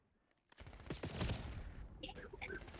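A shotgun fires in a video game: after a quiet start, a rapid cluster of loud blasts erupts, followed by ringing echoes and clattering, with a voice speaking briefly alongside.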